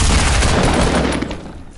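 A burst of rapid gunfire in the Fortnite video game, loud and dense from the start and tailing off toward the end, with no talk over it.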